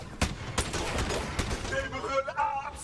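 Battleborn shooter gunfire rattles in quick sharp bursts over a few seconds, mixed with game effects and a player's voice.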